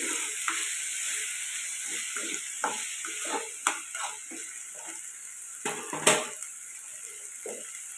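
Egg curry mixture sizzles steadily in a pan while a spoon stirs and scrapes through it, with irregular soft knocks against the pan over a constant frying hiss, close up and without speech.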